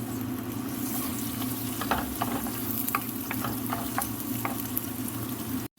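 Onion dropped into a hot pan fries with a steady, loud sizzle, broken by scattered scraping and stirring clicks, while cooking khusa with cheese, an Arabic dish.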